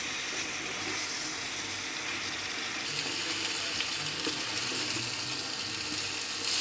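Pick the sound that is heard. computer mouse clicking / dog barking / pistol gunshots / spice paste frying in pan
spice paste frying in pan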